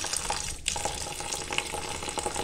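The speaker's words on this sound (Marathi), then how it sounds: "आता ह्याच्यात एक पाणी घालायचं थोडं" Cold water is poured over boiled wild monsoon greens (patri) in a kitchen, making a steady close splashing rush of water for a couple of seconds without speech.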